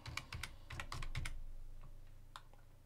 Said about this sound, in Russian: Вводим пароль суперпользователя.